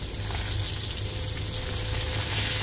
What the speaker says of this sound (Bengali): এর জন্য প্রথমে আমি কই মাছগুলোকে সুন্দর করে মশমশা করে ভেজে নেব।